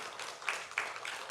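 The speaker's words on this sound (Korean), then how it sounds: "그 하나님께 다시 한번 함성과 영광의 박수 돌려드리십시다" A church congregation applauding during a Korean harvest thanksgiving service, a dense wash of clapping with a few louder bursts, fairly distant.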